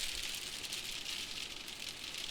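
Steady rain falling during a tornado-warning storm, a continuous hissing patter on surfaces, moderately faint and even throughout, with no voices.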